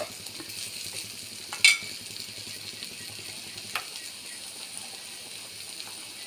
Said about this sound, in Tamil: பாகக்காய் நல்லா ஃப்ரை ஆகிட்டு